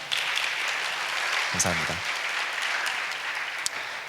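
An audience claps for officials and volunteers at a young adults' joint worship service, a brief burst of applause underneath amplified speech in a large hall.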